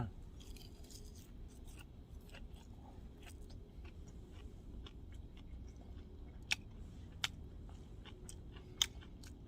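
Close, quiet chewing of grilled pork belly eaten outdoors on top of a car, soft wet bites and crunches over low background rumble, with a few sharper clicks toward the end.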